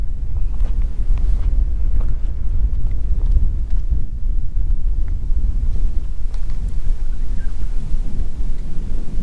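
Strong wind buffets an open sheep station in the outback, a loud continuous roar with heavy low-frequency gusting across the microphone throughout.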